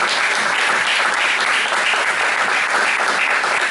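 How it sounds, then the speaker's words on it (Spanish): Audience at a conference applauding a football coaching school director, with dense, even clapping filling the room and holding steady from start to finish. "un aplauso."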